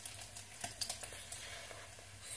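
Diced bacon cooking in a frying pan, giving a soft, steady sizzle with a few light stirring clicks and scrapes, fairly quiet and close, with no talking.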